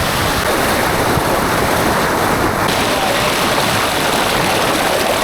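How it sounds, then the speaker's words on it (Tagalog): Rushing water at a local waterfall, a loud, dense, continuous roar of churning water that stays even throughout with no breaks, close to the microphone. "Grabe yung alon"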